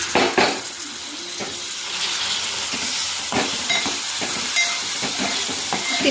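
Tomatoes fry in a pan in a dim home kitchen, giving a loud, steady sizzle with occasional stirring clatter and bursts of steam, close by and without talking.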